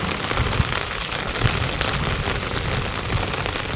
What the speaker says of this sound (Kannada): ಒಳ್ಳೆ ಮಳೆ.